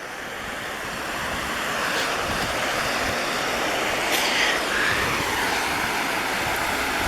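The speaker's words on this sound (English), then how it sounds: "Got a bunch of little rapids here." Steady rushing water from river rapids roars continuously, a broad wash of turbulent flow with some wind noise on the microphone, no speech.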